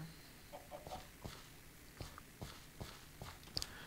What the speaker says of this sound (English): Alright, so that's our 2 chickens.